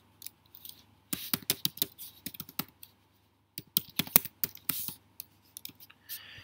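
Typing on a computer keyboard, with rapid close key clicks in two bursts separated by a short pause, no talking.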